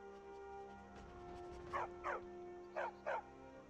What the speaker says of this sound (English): hi, doggo. You're new around. Good dog.